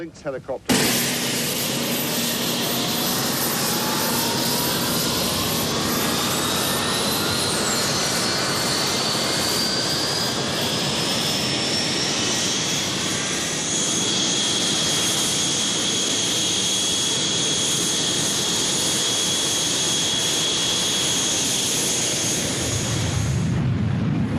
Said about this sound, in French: Ils décollent du sud de l'Argentine, équipés de missiles Exocet, bien décidés à se venger.